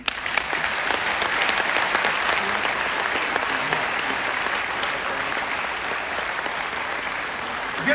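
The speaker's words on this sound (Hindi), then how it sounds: "ये तालियां इसरो के लिए मैंने इसलिए बजवाई" An audience of air force personnel at a Hindi poetry gathering breaks into dense, sustained applause, with many hands clapping at once for about eight seconds at a steady, loud level and no pause.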